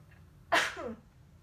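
A single sharp sneeze, close and sudden, followed by a brief trailing vocal sound, with quiet room tone around it.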